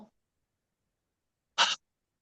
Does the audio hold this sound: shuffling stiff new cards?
no